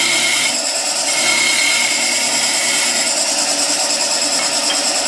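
A skew chisel roughs out a spindle on a wood lathe in a loud, continuous rasping cut with a slight shift in tone early on, close and without voices.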